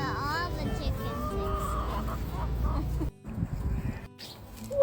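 Chickens cluck and squawk at a petting farm among alpacas and other animals, a busy layer of fowl calls running under close talk, with a brief dip in the middle.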